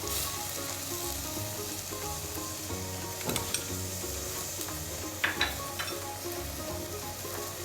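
Seasoned onion and tomato sizzle steadily in butter for a Moroccan couscous, with a spoon stirring and scraping the pan and a few sharper clinks of utensil against pot partway through.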